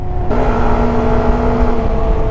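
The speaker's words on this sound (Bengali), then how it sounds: "বাইকটা রাইড করতে করতে যখন আমি থ্রটলটা ছেড়ে দিচ্ছি তখন বাইকটা থেকে ডিফারেন্ট একটা শব্দ আসতেছে" A Yamaha MT15 motorcycle with the R15 V3 engine hums steadily as the throttle is released while riding, a close, even engine drone with a slight pitch shift at the start and no speech.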